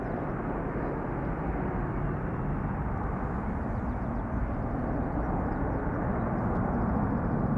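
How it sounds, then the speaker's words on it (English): A Delta Airlines Airbus A330-300 departing Schiphol Airport passes by as a steady, broad jet rumble, loud and sustained, with no voices over it. "what you just heard pass by and are still seeing is Delta Airlines Flight 161, outbound to Minneapolis, Minnesota, an A330-300"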